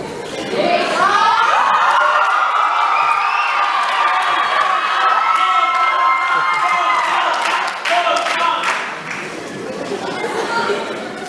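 An audience at a Brazilian dance show in Ubatuba cheers, shouts and claps loudly, including children's high voices, a sustained crowd roar with chatter mixed in that fades slightly toward the end.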